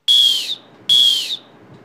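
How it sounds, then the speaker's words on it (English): Two short, sharp whistle blasts, each about half a second long with a pause between them, loud and close with no other sounds. "Methods to attract attention of troops are a short blast of whistle"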